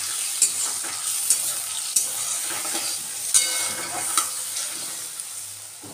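Spice tempering sizzling in a pan after a little water is added, for banana flower chops: a steady, even sizzle with regular light clicks of a spoon stirring, close by.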